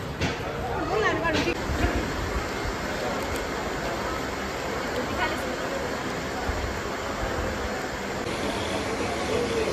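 Railway station platform ambience: steady crowd babble and murmuring voices over a low rumble of trains and machinery, continuous throughout.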